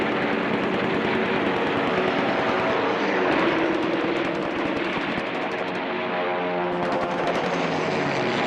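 Waves of World War II fighter and bomber aircraft over the Pacific roar steadily with droning engines, overlaid by rattling bursts that suggest gunfire, loud and continuous throughout.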